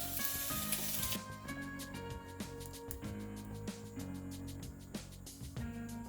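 Bacon sizzles in a frying pan with a steady hissing crackle, heard beneath continuous background music.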